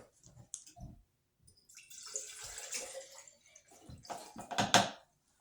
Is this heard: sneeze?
no